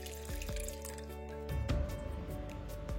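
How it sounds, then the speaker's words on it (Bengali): Four cups of water splash and trickle into a cooking pan for Turkish beef in cream, a short close pour with a louder gush midway and a brief drip-like spatter. "এবার একটা প্যানে 4 কাপ পানি নিয়ে নিচ্ছি।"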